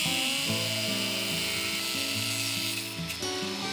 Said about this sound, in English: The next thing I had to do was cut little notches here for the welds and the leaf springs.